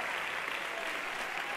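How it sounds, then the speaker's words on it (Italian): Audience applause for a children's choir at a music contest in Sanremo, a dense, steady clapping that carries evenly through the whole stretch with no voices over it. "Facciamo prendere un bel applauso a questi ragazzi."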